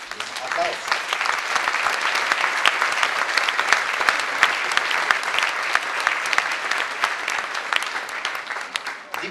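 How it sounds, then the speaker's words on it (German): Steady applause from a sizeable crowd, dense clapping that keeps going at an even level throughout. "Norbert Schieder bitte zu mir auf die Bühne, begleitet den Applaus."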